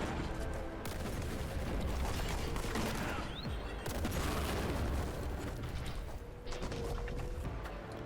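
Dense, sustained gunfire rages in Warhammer 40,000: Boltgun, a loud, continuous barrage of rapid shots and booming impacts filling the whole stretch with hardly a pause.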